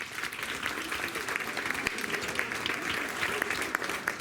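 Dense, steady applause from the audience at a primary school certificate ceremony at a Belgian school, a continuous patter of many hands with a faint voice underneath.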